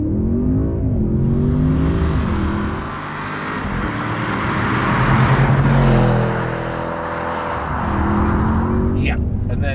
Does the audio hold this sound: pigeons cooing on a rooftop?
no